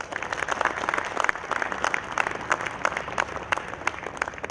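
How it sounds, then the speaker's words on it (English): A graduation audience at the Indian Institute of Technology, Gandhinagar applauds steadily, a dense patter of many hands clapping in a hall, even and sustained at moderate volume. "Can we have a round of applause for ourselves?"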